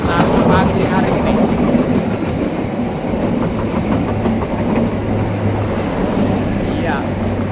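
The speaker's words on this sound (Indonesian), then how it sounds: "Argo Parahyangan melintas di JPL 150A." The Argo Parahyangan passenger train passes level crossing JPL 150A in the morning, a loud, close, continuous rumble with rhythmic clickety-clack of wheels over rail joints throughout.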